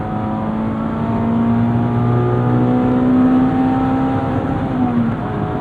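A 2021 Mazda Miata RF GT ND2 with 949Racing modifications revs out toward 8,000 RPM while driving, a loud, steady climbing engine drone heard from inside the car, rising and then easing, with no talk.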